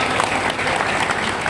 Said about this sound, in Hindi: आप सब जोरदार ताली बजाकर स्वागत करेंगे।